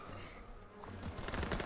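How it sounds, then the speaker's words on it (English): Gunfire from Call of Duty: WWII combat, a quick cluster of fairly faint cracking shots in the background with a voice present. "Yo, where are they shooting me from?"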